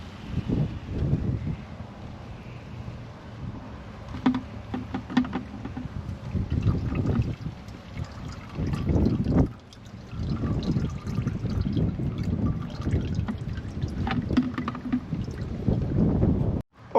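Oil drains steadily from a Tohatsu 20hp outboard engine, a continuous close liquid pour and trickle that runs throughout without pause.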